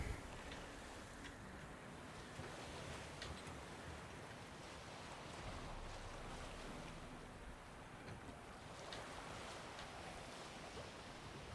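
Steady wind rushes over open water while sailing a boat in The Witcher 3 near the cursed island of Fyke, with a constant broadband roar and surf-like washing that stays loud and even throughout, no voices.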